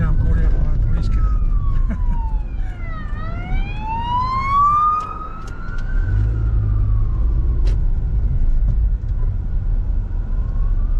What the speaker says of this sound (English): now I'm caught out by a police car